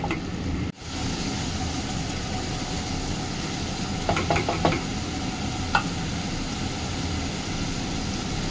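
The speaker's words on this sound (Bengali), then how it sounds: "দিয়ে এটাকে ভালো করে এবার এর সাথে মিক্স করে একটু কষিয়ে নেব।" Ginger, green chili and tomato paste stir-fry with potatoes in a pan, a continuous broad sizzle close by. A few sharp utensil scrapes and knocks break through midway, with no speech.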